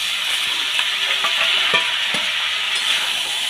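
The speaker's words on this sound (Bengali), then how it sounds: "দিয়ে ভালো করে কষে নেব 2 মিনিট ধরে" Fried vegetables are stir-fried into a spice mixture in a pan. A continuous close sizzle carries repeated scraping stirs and light clinks of the utensil, and no one talks.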